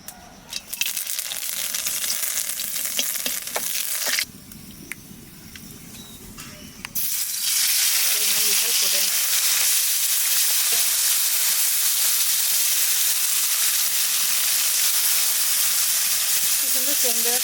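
Cloves, cinnamon, cardamom and bay leaf hit hot oil with a loud, continuous sizzling hiss that briefly dips, then surges back stronger and holds steady, with faint voices underneath.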